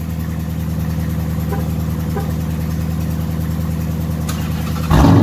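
A second car started by remote start idles steadily nearby, a loud, even engine rumble with a rhythmic low pulse, then a sudden louder surge of engine noise right at the end.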